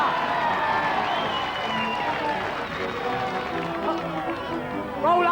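Studio audience cheering and applauding at a 1985 BBC game show, a loud continuous crowd roar with clapping and shouts throughout, with a swell near the end.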